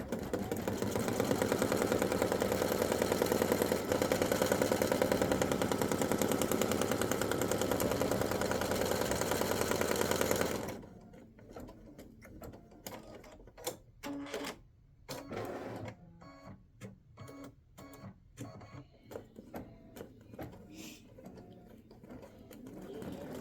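Embroidery machine stitching a Best Dog Dad Ever greeting card, a steady fast mechanical whirring for about ten seconds, then stopping, leaving quieter intermittent clicks and handling noises.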